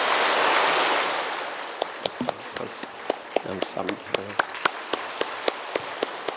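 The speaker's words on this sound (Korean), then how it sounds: "뜨거운 박수로 우리 축하하고" A Sunday worship congregation at a healing church bursts into warm applause that swells loudly and then fades within a couple of seconds. Sharp tapping beats and a short spoken word follow.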